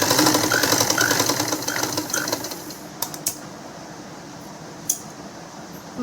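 A sewing machine stitches a baby frock, with a fast rhythmic ticking clatter close by that fades and gives way to a few isolated clicks.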